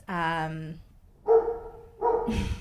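A pet dog at home gives a drawn-out whining yelp followed by two shorter barks, close by and fairly quiet, with a brief pause between each.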